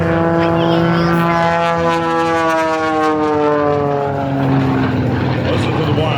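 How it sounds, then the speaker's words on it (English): An aerobatic propeller airplane's 400-horsepower engine whines loudly at an air show, pitch rising and falling as it maneuvers, with a faint voice under the roar. "Listen to the whine of that 400 horsepower engine as Buck reaches the left-hand side"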